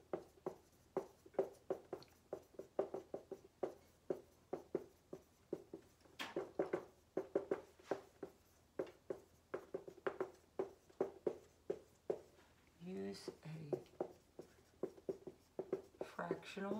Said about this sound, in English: let me just write a couple things